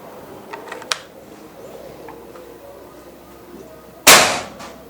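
A single sharp, loud crack of a PCP air rifle's second test shot near the end, decaying quickly, after faint clicks and a quiet background.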